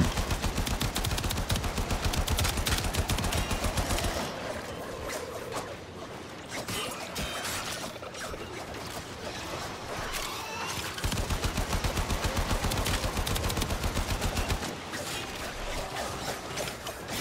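Rapid machine gun fire from the video game Warframe rattles in long sustained bursts, loud and close, with a brief lull mid-clip before the dense automatic fire resumes alongside mechanical clanks.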